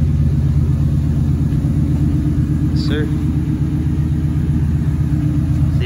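A 2-valve Saleen V8 with louder aftermarket mufflers idles with a deep, steady low rumble throughout, and someone speaks briefly over it.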